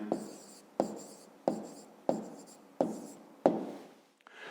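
Pen or chalk strokes write out an answer to a fifth-grade math problem, about six sharp taps each trailing into a scratchy stroke, close and quiet with no talking.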